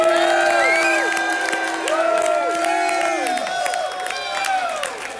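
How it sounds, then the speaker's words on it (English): A Dragon Con convention crowd claps, cheers and whoops loudly, with excited shouts and high voices rising over steady applause throughout. "Can we please get a big round of applause for Mayor McCheese?"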